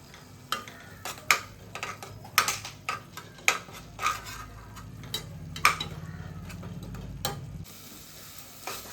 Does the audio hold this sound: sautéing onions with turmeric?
yes